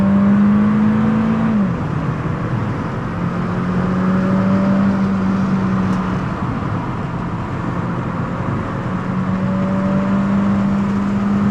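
A race car circuit lesson at La Ferté-Gaucher: the car's engine drones loudly and steadily in the cabin, its pitch sliding and shifting through gear changes, with road and wind noise underneath and no talking.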